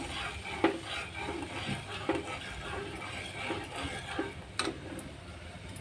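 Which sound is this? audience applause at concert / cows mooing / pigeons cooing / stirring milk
stirring milk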